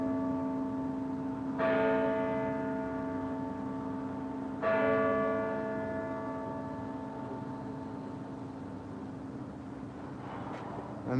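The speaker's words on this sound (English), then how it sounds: "Listen to the bells." Two deep strikes of an old clock tower bell in England ring out about three seconds apart, each decaying into a long, humming resonance that fades toward quiet by the end.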